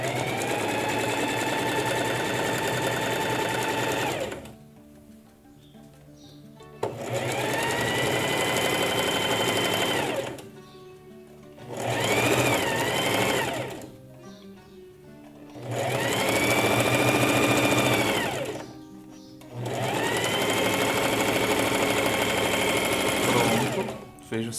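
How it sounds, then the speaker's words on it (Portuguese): A sewing machine fitted with a hemming foot stitches a hem on fabric in several loud, steady whirring bursts, with short quiet pauses between runs. "Agora eu só vou firmar o meu tecido aqui e vou costurar."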